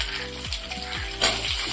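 Onions sizzle in hot oil in a pan for a Bengali chicken kosha curry, just after potatoes were fried. A steady, close frying hiss runs throughout, with faint low tones underneath.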